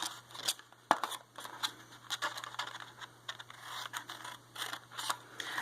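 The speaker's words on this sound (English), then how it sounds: "just miter that a little bit by cutting these corners off" Stampin' Up snips cut the corners off designer series paper, giving a series of sharp, close, faint snipping clicks at an irregular pace.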